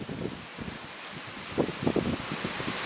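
Wind gusts buffet the microphone with a low, steady rush at an outdoor wine event, while a few faint rustles come and go. No voices are heard.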